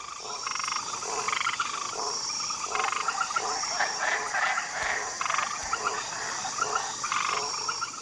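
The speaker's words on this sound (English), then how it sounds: "poison arrow frogs" Poison arrow frogs croaking in a dense, continuous chorus of rapid repeated calls, near and loud, with insects buzzing steadily underneath.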